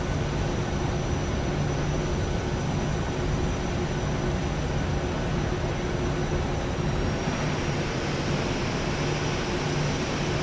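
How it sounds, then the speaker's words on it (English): A departing Airbus airliner at Kelowna airport, a steady loud broadband jet roar with a constant hum, heard from inside a small aircraft waiting to take off. "We're just gonna wait a minute to get some distance on that departing Airbus."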